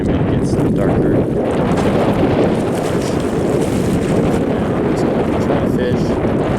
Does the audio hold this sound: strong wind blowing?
yes